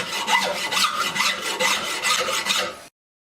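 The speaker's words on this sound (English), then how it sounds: "So I'm filing basically the width now down to the binding here." A file rasping along the edge of a wooden guitar neck clamped in a vise, trimming its width down to the binding: loud, close, steady back-and-forth strokes in quick succession, then it stops abruptly.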